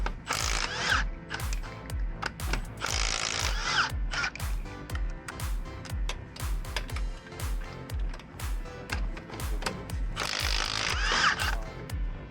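Rapid ratcheting clicks from a torque wrench tightening a fastener, coming in close repeated bursts with short pauses between strokes.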